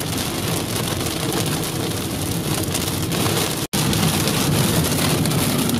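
Heavy rain pours steadily and loudly inside a tornado-producing thunderstorm cell in the US Tornado Alley, a dense continuous roar with a very brief break, no voices.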